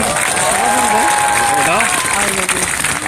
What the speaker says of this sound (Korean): 그 자유발언 해주신 분께 큰 박수 한번 더 부탁드리고요